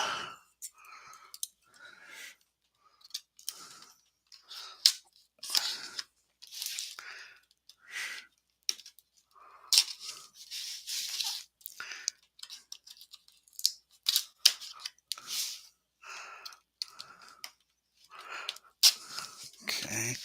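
Envelopes of APBA baseball cards are torn and opened with quick, close paper rips and rustles coming in irregular bursts over a quiet background.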